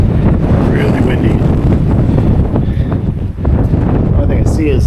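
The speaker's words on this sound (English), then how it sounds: "Really windy." Loud, blustery wind buffets the microphone with a heavy low roar, constant and close, briefly easing before gusting again.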